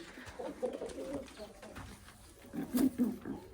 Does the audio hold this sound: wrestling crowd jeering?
no